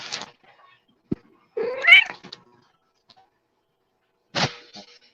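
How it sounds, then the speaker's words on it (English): A cat meows loudly several times in separate bursts: a short cry, a long rising and falling wail, then a final sharp meow, each close and clear against an otherwise quiet room. "The kitty cat is going crazy."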